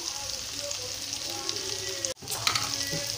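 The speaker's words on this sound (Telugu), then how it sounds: "ఇప్పుడు క్యాలీఫ్లవర్ ముక్కలు వేసుకుంటున్నానండి." Cauliflower florets dropped into hot oil in a frying pan for egg cauliflower curry, a steady crackling sizzle with a brief dip and a louder spatter as pieces go in.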